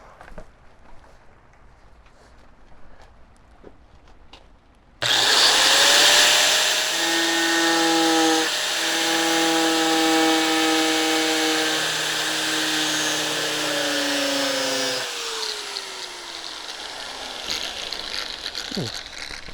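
A cutting wheel on a power tool, used while fitting Rough Country driving lights on a Ford Super Duty truck: a sudden loud high whine that grinds steadily for about ten seconds, pitch dipping under load, then spins down.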